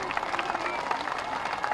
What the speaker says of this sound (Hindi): ऐसी तालियों की गड़गड़ाहट हो